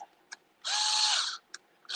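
A power drill pre-drills holes in an Axial SCX10 III Base Camp builder's kit. It gives one short, whining burst of under a second, framed by a few faint clicks and handling taps.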